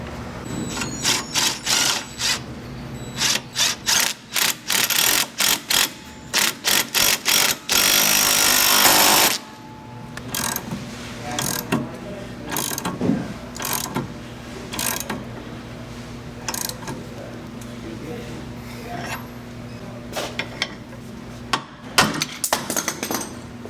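Wheel hub puller's center bolt being driven on a Volvo XC70 hub replacement, a run of rapid mechanical rattling bursts like an impact tool, close and loud, with a continuous hammering stretch, then scattered clicks and clanks.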